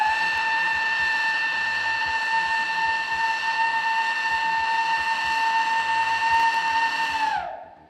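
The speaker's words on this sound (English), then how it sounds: "The all clear is one long blast on the emergency steam whistle." A refinery's emergency steam whistle sounds one long, steady, loud blast as the all-clear signal, then its pitch sags and fades at the end.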